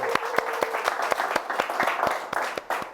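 Rhythmic unison clapping from a residents' assembly crowd, sharp regular claps at a brisk steady beat, fairly close and loud, with a faint murmur of voices underneath.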